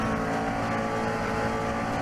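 Race car engine in Assetto Corsa, a steady loud drone running throughout with layered harmonics, sounding like continuous driving at speed with no talk.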